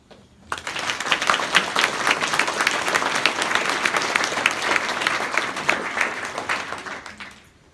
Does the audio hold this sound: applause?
yes